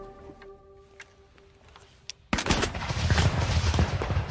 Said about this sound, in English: gunfire signals the beginning of the Battle of Waterloo.